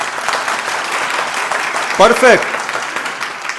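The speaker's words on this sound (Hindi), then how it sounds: "तालियां" Applause from an audience at a Hindi spiritual lecture, steady clapping throughout with a brief spoken word from the speaker near the middle.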